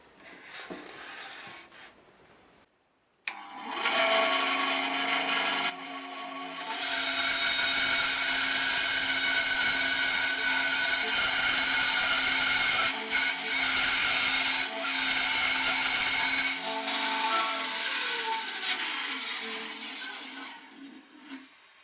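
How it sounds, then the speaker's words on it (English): A newly set-up bandsaw cuts wood for a cigar box guitar, starting up after a quiet moment and running as a loud, steady whine with the blade biting through the wood for most of the clip before winding down. "let's see how well I've set up my new bandsaw"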